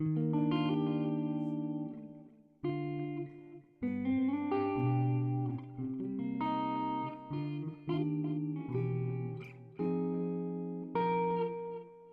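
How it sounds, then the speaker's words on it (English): Electric guitar chords and melodic lines ringing out with echoing repeats and spacious reverb, played alone in phrases with brief pauses. "Let's get some delay in there as well."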